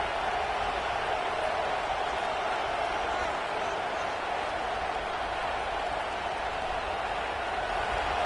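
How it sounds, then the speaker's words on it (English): Steady stadium crowd roar from the NCAA 26 college football video game, a loud continuous wash of noise that holds without a break for the whole stretch. "This crowd bringing the energy and noise early."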